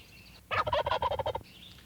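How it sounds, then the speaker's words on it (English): An eastern wild turkey gobbles once, a loud rapid rattling burst of about a second, close and clear with no other sound around it. "The wild turkey is a true North American bird believed to have originated in Mexico."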